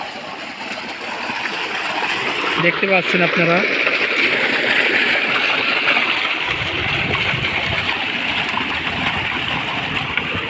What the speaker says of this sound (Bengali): দেখতে পাচ্ছেন পঞ্চাশ ভার্সে পানি হচ্ছে ফুল স্পিডে